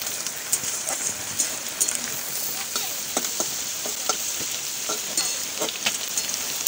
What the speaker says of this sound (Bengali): আর তো আমি মশলাটা আর একটু ভেজে নেবো, কষিয়ে নেবো